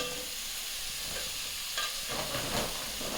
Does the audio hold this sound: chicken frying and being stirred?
yes